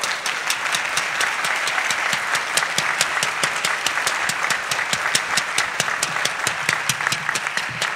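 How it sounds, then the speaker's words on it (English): Warm applause from a concert band audience, many hands clapping in a sustained, even roar, with a rhythmic pulse of unison claps emerging throughout, fairly close and loud for the full eight seconds. "Give them a round of applause."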